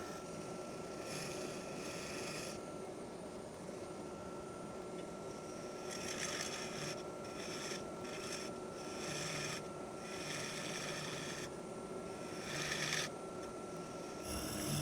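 A wood lathe turns a burl bowl, its steady motor drone running throughout with a continuous broadband hiss of cutting, and brief louder bursts of tool-on-wood scraping come and go. It is moderately quiet and nobody speaks.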